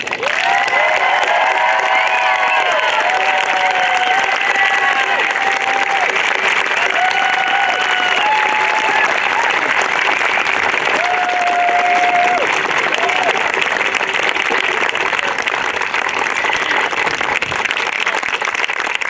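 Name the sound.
audience applauding and cheering graduating students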